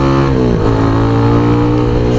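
Motorstar Xplorer Z200S motorcycle on a highway, its engine droning loud and close with a brief dip and rise in revs near the start, then a steady hum.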